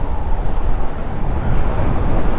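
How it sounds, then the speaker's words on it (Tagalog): Strong wind gusting by the sea near a bridge to Alabat island, a steady roaring rush buffeting the microphone, with surf noise mixed in and no talking. "sumisipol yung hangin, parang hindi ako makalakad ng ayos"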